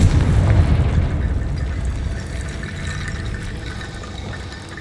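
A fiery spell blast from the Hogwarts Legacy video game erupts with a loud booming burst at the start, then decays into a rumbling, crackling wash that slowly fades over several seconds.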